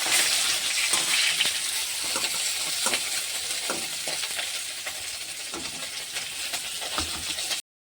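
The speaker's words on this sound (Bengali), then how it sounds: "তেল দিয়েছি তেলটা ধোঁয়া উঠছে আবার মাছটা রসুন আদা বেটে নেব মাথাটা ভাজা হয়ে গেছে" Pieces of catla fish fry in smoking-hot oil with a busy, continuous sizzle, broken by a string of sharp spatters and stirring clicks, close by and without talk.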